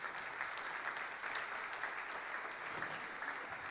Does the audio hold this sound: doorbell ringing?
no